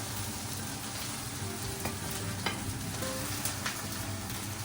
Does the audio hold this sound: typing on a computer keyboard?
no